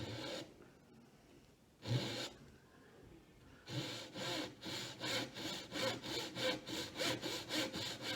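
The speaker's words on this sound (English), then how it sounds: "Make sure your tenon saw is upright when you do this" A tenon saw cuts wood for a camp stool leg, starting with a few hesitant scrapes and then settling into a steady, even run of rasping strokes up close.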